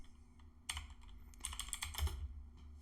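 Quiet, close clicking of a computer keyboard as a username is typed, a brief run of soft uneven keystrokes in small bursts against a faint hum.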